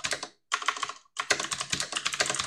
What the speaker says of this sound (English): And so if you keep typing along, and you get to the end